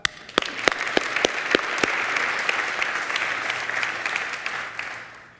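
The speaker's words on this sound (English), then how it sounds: "We can clap." An audience at a talk about teens in foster care applauds. A few crisp, separate claps open it, then it swells into a steady wash of clapping that tapers off after about five seconds.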